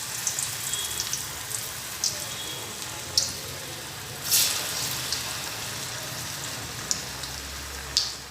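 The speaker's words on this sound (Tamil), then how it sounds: "இப்போ நம்ம பொரிக்க ஆரம்பிக்கலாம்." Sweet corn vada batter fries in hot oil with a steady soft sizzle and bubbling, broken by occasional brighter crackles and pops, close and moderate in loudness, with no talk.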